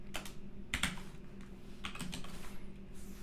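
Rapid keystrokes on a computer keyboard while coding a web app, clattering in short uneven bursts with brief pauses, close and fairly quiet, with no one talking.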